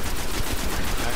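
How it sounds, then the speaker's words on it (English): A machine gun firing in Destiny, a rapid steady stream of closely spaced shots, loud and continuous for just over a second. "I want to try out this new machine gun I just got."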